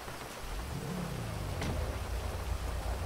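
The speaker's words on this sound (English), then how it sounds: "Oh, shit is raining" Rain in GTA 5 pours as a steady dense hiss, with a faint low tonal sweep like a passing engine midway, continuous and fairly quiet with no speech over it.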